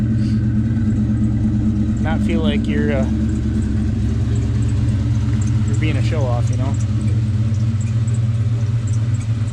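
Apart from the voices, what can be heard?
Ford Mustang engine exhaust rumble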